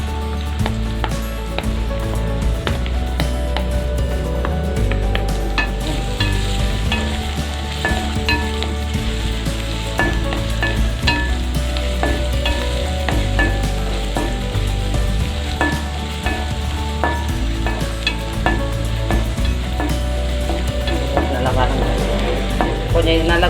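Garlic fries in oil in a pan for fish gravy, a steady close sizzle with stirring scrapes throughout, continuous and even in loudness, with no talk over it.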